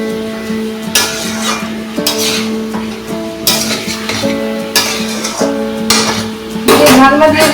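Chicken with chili powder stirred in a pot for meat khichuri, loud close scraping and clanking strokes against the metal at intervals over a low frying sizzle and an ongoing hum, with a burst of louder clatter at the end.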